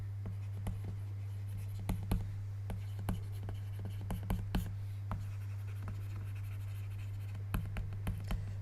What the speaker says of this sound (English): So I'll write that in red.